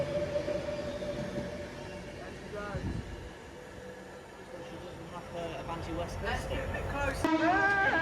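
An Avanti West Coast train pulls out of Rugby station bound for London Euston, a broad rumbling roar with squealing, rising tones near the end. Voices talk over it.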